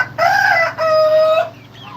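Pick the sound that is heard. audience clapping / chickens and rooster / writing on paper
chickens and rooster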